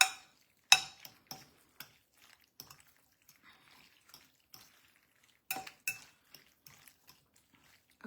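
Spoon clinks and scrapes against a dish while pasta bake is mixed with tomato sauce, a sparse run of sharp, close taps separated by quiet gaps.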